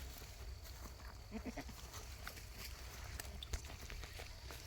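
Free-ranging goats grazing on grass, heard faint and distant as scattered rustles, soft steps and an occasional quiet bleat over a low outdoor hum.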